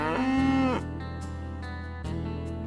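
A cow moos once, loud and close, in a drawn-out low call that trails off, followed by quieter farmyard livestock sounds in the background.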